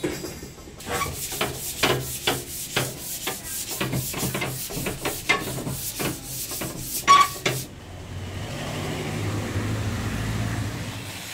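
Sanding of a metal pipe and iron bar for a flagpole, a series of rough rhythmic scraping strokes up close, then the strokes stop, leaving a quieter outdoor hum.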